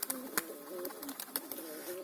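Soft, repeated cooing of doves close by, rising and falling in short phrases, with a few sharp clicks between.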